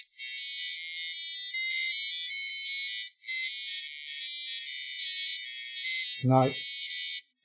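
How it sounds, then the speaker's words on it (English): Two electronic buzzers sound together with a light show, a steady high-pitched tone broken by one short gap, with a brief spoken word near the end. "2 buzzers and light show."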